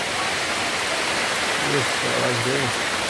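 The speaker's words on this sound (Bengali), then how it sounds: "দেখো খালি বৃষ্টি হচ্ছে, দেখো" Rain falls steadily outside a house beside a pond, seen from a veranda, a constant wash of noise while a person talks over it.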